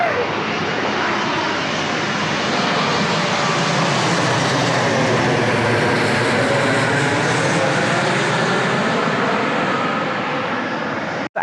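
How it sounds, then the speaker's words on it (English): A fixed-wing airplane passes overhead during an open day at a historic house in Barbados, its steady engine roar loud and sustained throughout, with no talk over it. "enjoying the planes as they fly over."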